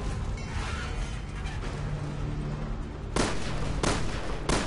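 Gunfire rings out in Resident Evil Revelations 2: a steady dense rumble of shooting, then three sharp, loud shots spaced about a second apart near the end.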